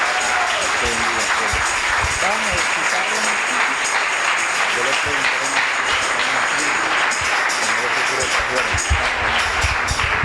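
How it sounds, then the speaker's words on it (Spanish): Church congregation applauding at an evangelical service, a steady dense wash of clapping sustained throughout, with faint voices and shouts mixed underneath. "Bríndeles aplauso a Cristo."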